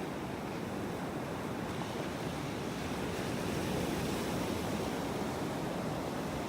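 Ocean surf rolls steadily onto the beach beside Naples Pier, a continuous broadband wash of breaking waves with wind noise on the microphone and no voices.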